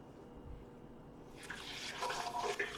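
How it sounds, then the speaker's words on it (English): Three cups of water pour into a container of pecan nuts for homemade oat milk, starting faintly, then swelling into a brighter, splashing fill during the second half, close and fairly quiet. "And then I'm going to add 3 cups of water."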